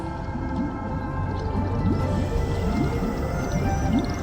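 Electra's whale-like siren call in Honkai: Star Rail, a series of low, rising, moaning tones repeating over a steady underwater rumble, fairly close and clear.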